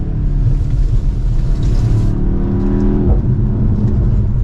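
A 2024 BMW X1 M35i engine pulls hard under acceleration, a loud, steady droning rumble from inside the cabin that climbs in pitch before a quick gear shift drops it back down.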